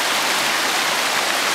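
Steady broadband rush of river rapids where rafters pass, a dense continuous roar of flowing water close by with no speech.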